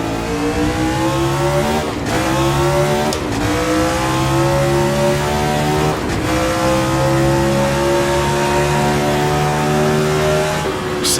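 Gilles Villeneuve-style Formula 1 car in the Assetto Corsa racing game accelerating out of a hairpin onto a straight, engine note rising loud and steady through several gear upshifts, each shift briefly dropping the pitch before it climbs again.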